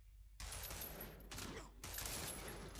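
Rapid automatic gunfire rattles in dense bursts during a World War Heroes shooter match, loud and continuous with brief gaps, with no voices.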